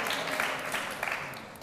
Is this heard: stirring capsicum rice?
no